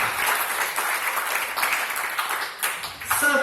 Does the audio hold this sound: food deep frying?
no